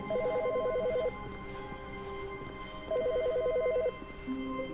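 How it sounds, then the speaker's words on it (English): A telephone rings in the video game The Stanley Parable, two bursts of rapid trilling electronic ringing separated by a pause, fairly clear over a soft steady room tone. "Why is there a phone ringing?"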